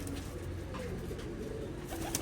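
Pigeons coo softly and repeatedly at close range, a low steady murmur of several birds with no voices over it.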